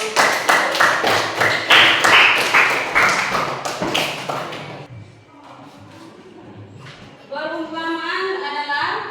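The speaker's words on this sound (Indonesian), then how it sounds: "tepuk tangan untuk" A short burst of rhythmic clapping from a small group for a few seconds, then it fades and a voice starts speaking.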